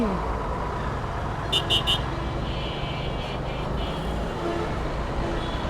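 Busy road traffic heard from inside a moving car, with a steady rumble of engines and road noise, then three quick horn toots from a nearby vehicle and a fainter longer honk after; people talk faintly in the background.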